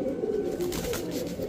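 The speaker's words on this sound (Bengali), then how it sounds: "এটা কি তুলা একটা নর কবুতর" A male Tula pigeon cooing at close range, a steady low throaty murmur that runs continuously with no speech.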